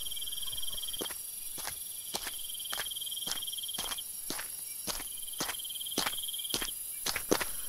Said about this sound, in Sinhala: පිටුපසින් ඇසෙන අඩි සද්දයට ඇගේ කල්පනාව බිත වැටුණා